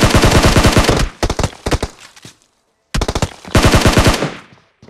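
Automatic weapons spray fire in PUBG Mobile, loud rapid bursts of shots in long strings broken by a brief silence, then another heavy volley that tapers off.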